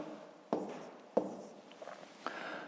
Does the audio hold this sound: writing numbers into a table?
yes